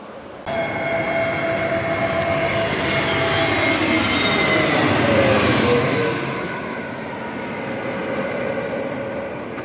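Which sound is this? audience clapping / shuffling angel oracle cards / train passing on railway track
train passing on railway track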